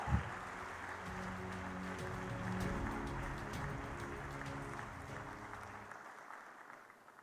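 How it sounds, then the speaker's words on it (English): Steady audience clapping in a conference hall at a financial services event, moderately faint, with a sustained hum underneath and a short thump at the start; it fades out in the last second. "Give him a big round of applause."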